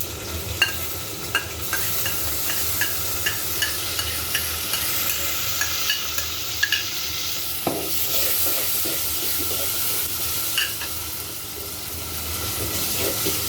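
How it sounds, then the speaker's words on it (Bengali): Garlic, ginger and cumin paste frying over low heat in a pan for a country chicken curry, giving a steady close hiss and sizzle with scattered soft clicks of a spoon stirring throughout. "হালকা আঁচে ভেজে নেব।"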